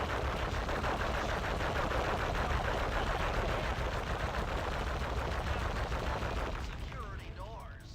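Rapid gunfire aimed at a destructible pillar in the game Sly 1, a dense continuous rattle of shots at steady volume that fades slightly near the end, with game sound layered in.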